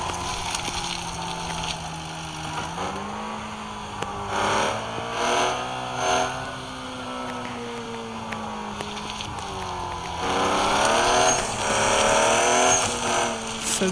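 A fast off-road truck in the Off-Road Outlaws game drives along, its engine droning and rising and falling in pitch as it revs and shifts, with wind noise and a louder surge near the end.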